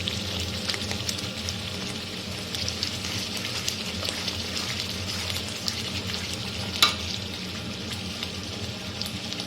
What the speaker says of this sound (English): You can see it has started to bubble up.